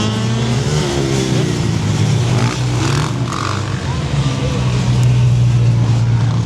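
Motorcycles revving during wheelies at a busy event, engines droning and rising under crowd noise and scattered voices, with bursts of louder revs toward the end.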